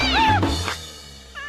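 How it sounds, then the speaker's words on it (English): A cartoon cat meows in a short, rising-and-falling cry, followed a moment later by a second, fainter meow after a stretch of background noise. "Look out for the foo-foo cat."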